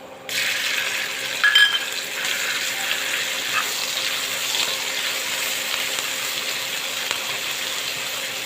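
Chili, onion and mustard pastes fry in a pan for a hilsa fish curry with banana flower, giving a steady close hiss with a brief metallic clink near the start and no talking.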